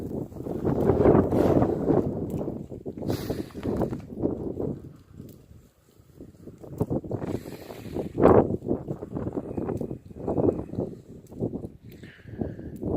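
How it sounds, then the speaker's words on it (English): Gusty winter wind sweeps snow around outdoors in northwestern Ontario, a steady rumbling roar buffeting close to the microphone with stronger surges throughout and no talk. "You can see the wind blowing the snow around."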